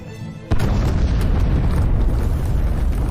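A laboratory blown up in an explosion: a sudden loud blast hits just after the start and turns into a dense, sustained roaring rumble that stays loud to the end, with no voices.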